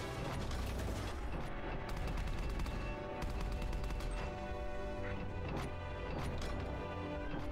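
Sustained rapid machine gun fire in the video game Left Alive, loud and continuous with dense mechanical clatter throughout, no talking.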